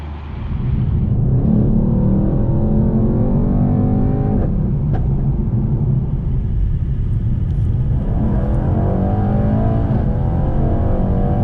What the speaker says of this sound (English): I think it's time to crank it up and take it for a drive